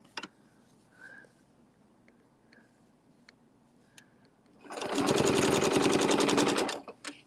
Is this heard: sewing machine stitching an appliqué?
yes